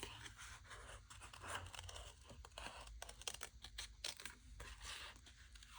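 Paper being cut by hand around a drawn figure of a character, a quick run of close, crisp snipping and rustling that stays fairly quiet and steady throughout.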